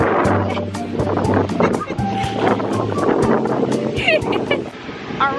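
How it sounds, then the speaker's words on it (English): Strong wind buffets the microphone at a cold summer beach during a sandstorm, a loud continuous roar with gusty low rumble while people talk over it. "It is so windy."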